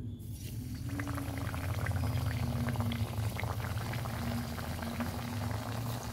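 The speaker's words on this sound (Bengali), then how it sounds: "এখন আমি ঠেকুয়াগুলো ভেজে নেব। তেলটা গরম হয়ে গেছে।" Thekua dough pieces deep-fry in hot oil, a steady dense bubbling sizzle that swells after a quiet start and continues evenly with a faint low hum underneath.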